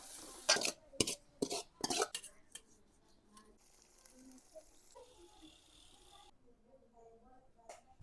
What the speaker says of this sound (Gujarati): હવે આપણે કકડાવવાનું છે આદુ, મરચા, ડુંગળી, ટમેટા અને લસણ.